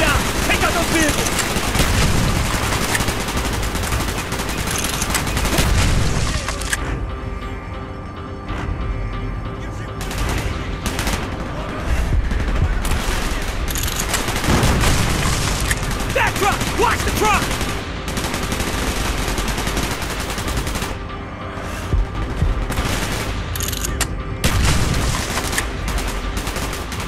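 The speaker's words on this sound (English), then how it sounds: "Gunfire's drawing attention." Gunfire in Call of Duty: Black Ops, with dense bursts of automatic fire, single shots and booms crackling almost continuously over a long stretch as voices talk amid the battle.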